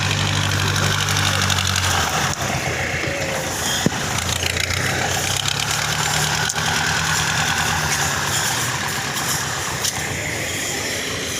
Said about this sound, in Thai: ทั้งรถเจ็ดรถไถมาช่วยกัน